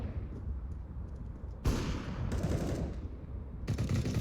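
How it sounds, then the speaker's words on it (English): Bursts of automatic gunfire in a competitive video game match, several overlapping volleys that cut in sharply and stay loud and dense, with no voices over them. "they're shooting each other."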